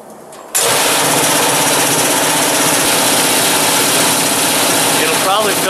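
Air compressor motor starting after a blown head gasket repair, kicking on abruptly after a quiet moment and then running loudly and steadily at close range with a constant mechanical drone.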